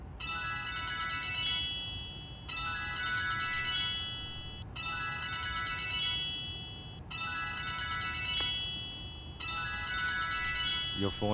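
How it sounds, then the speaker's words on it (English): A mobile phone ringtone plays in a Bollywood love-story film, a bright repeating melodic phrase that loops about five times in regular bursts, loud and close with quiet background between. "Your phone is ringing."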